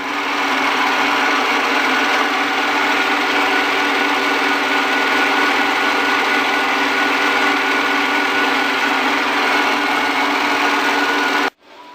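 A key cutting machine grinding a metal key blank, a steady loud high-pitched whirring drone that runs unbroken for about eleven seconds before cutting off abruptly.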